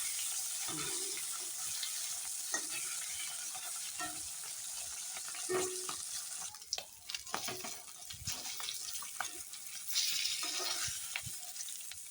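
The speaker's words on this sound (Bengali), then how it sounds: "এই মাছ ভাজা হয়ে গেছে এখন তুলে নিব" Bata fish frying in a pan, a quiet steady sizzle with scattered clinks and scraping of a utensil, heard fairly faint and without talk.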